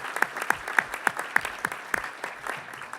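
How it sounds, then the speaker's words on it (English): An audience applauds Steve Forbes at a Detroit Economic Club event, a brief burst of sparse, distinct claps that gradually thin out. "Another round of applause for Mr. Forbes."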